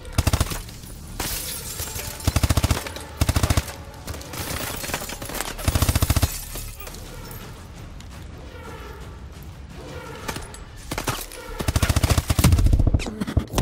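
Gunfire in the video game Call of Duty: Advanced Warfare: loud bursts of automatic fire come in repeated rattling volleys, with short lulls between them and mechanical clanks and creaks underneath.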